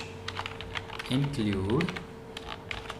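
Computer keyboard keys tapped in a quick, uneven run while writing C program code, close and fairly quiet, with someone talking briefly over the clatter partway through.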